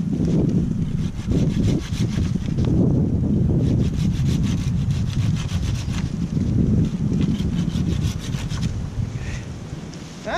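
A Silky F-180 folding handsaw cuts through tree branches outdoors with steady back-and-forth rasping strokes, close to the mic over light wind noise, and no one speaks.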